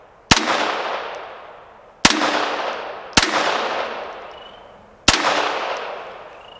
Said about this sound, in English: We're going to shoot to the left of that drain there